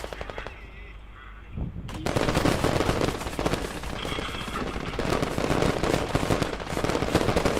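Gunfire in an online video game: after a short, quieter lead-in, a loud sustained burst of rapid automatic shots and explosive cracks fills the rest of the clip, close and dense, with no talk.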